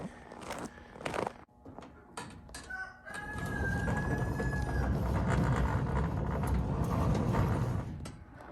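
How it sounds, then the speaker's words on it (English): Chickens and a rooster on a cold Eastern Kentucky winter morning farm; a rooster crows clearly once near the start, followed by a dense chorus of clucking hens close by. "Let the chickens out of the stall first."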